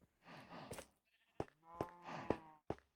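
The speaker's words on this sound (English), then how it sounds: "The sheep are still up in there," Sheep in Minecraft bleat repeatedly in short, clear, nasal calls, several in succession with brief gaps, close and moderately loud with no talking.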